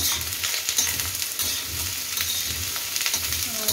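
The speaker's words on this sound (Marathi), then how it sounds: "कांद्याला थोडं तेल टाकते अजून, आणि कांदा लालसर मस्त छान असा भाजून घ्यायचा।" Sliced onions fry steadily in oil in a home kitchen pan, a continuous close sizzle with a soft crackling hiss, with faint low stirring scrapes beneath and no voices.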